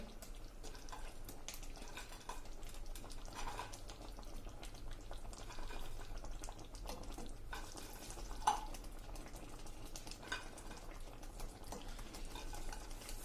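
Fenugreek muthiya dumplings stirred into undhiyu gravy in a pot: soft, close scraping and wet stirring of a spoon against the metal, with light clinks and a quiet simmer, no voices.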